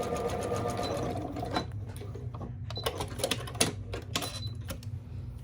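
A sewing machine runs a zigzag stitch along fold over elastic on a wrap neckline, first a fast continuous whir, then slowing into separate sharp mechanical clicks and thumps spaced irregularly, close and moderately loud.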